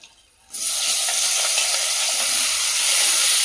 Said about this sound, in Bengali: তেলটা গরম হয়ে গেছে, এবার চিংড়ি মাছগুলো ভেজে নেব।